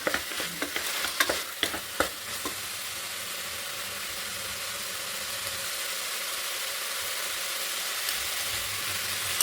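Vegetables and fresh peas sizzle steadily in a hot pan for veg pulao, with a few sharp scrapes of stirring at the start before settling into a continuous, even frying hiss.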